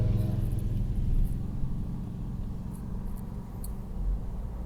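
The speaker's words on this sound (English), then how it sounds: "There's a lot of high-speed traffic." High-speed road traffic in Dallas, Texas rumbles by as a continuous low roar of tires and engines, heard from inside a moving car with a few faint clicks over it.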